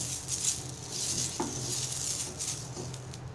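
Oil being spread with an onion across a hot tawa on a gas stove for cucumber ghavan gives a steady, soft, close sizzle, broken by a couple of faint scraping dabs.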